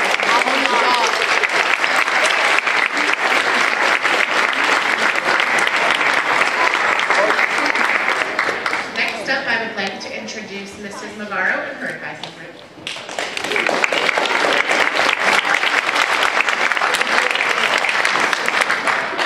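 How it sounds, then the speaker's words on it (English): An audience at a school capstone day breaks into loud, sustained applause, steady dense clapping that dips briefly midway before swelling back to full strength. "Can we give one round of applause to Mr."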